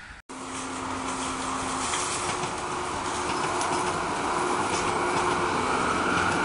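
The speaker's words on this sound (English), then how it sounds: "And that was a Metro North passing Big Y Naugatuck." A Metro-North commuter train rolls past Big Y in Naugatuck, Connecticut, a steady loud rumble with rail noise and faint wheel clatter sustained throughout, no voices.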